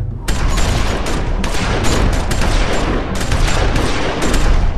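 Loud, dense volleys of gunfire in The Walking Dead Season 2 video game, bursts of rapid shots overlapping almost continuously with brief dips between volleys.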